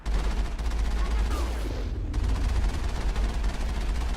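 Sustained, dense gunfire from a Mass Effect firefight, rapid shots rattling continuously and loudly from start to finish with a heavy low rumble underneath.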